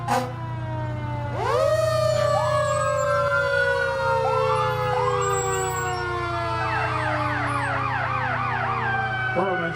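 Buchanan Engine Company fire truck sirens wail at a St. Patrick's parade in the Village of Buchanan, rising sweeps and yelping tones over a steady engine drone, loud and close, with an air horn blast near the start.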